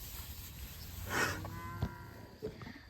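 Angus cattle low and call nearby, a drawn-out bellow followed by shorter calls, over an outdoor background with no talking.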